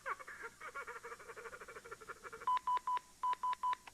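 Telephone dialing tones: a rapid rattling run of pulses followed by six distinct evenly spaced beeps of the dial, clear and close with no voices.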